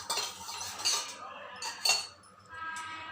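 Homemade lip balm is mixed in a small container, with a spoon or stirrer clinking and scraping quietly in short, uneven strokes up close.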